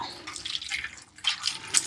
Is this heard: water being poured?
yes